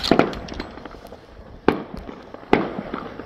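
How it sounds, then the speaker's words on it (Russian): New Year fireworks bursting at a distance: a few sharp booming cracks spaced apart, with crackling and rumble between them. "А у нас тут фейерверки лутят."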